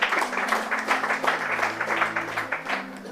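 A church congregation claps in a steady burst of applause, with a faint voice underneath.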